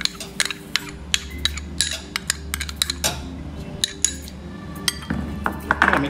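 Mango pulp and sweetener being mixed in a bowl for mango shrikhand, with repeated clinks and scrapes of a spoon against the bowl in an irregular rhythm, close and fairly clear, with no talking.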